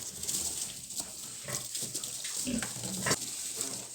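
A sow in farrowing gives low, intermittent grunts at close range against a constant high hiss of background noise.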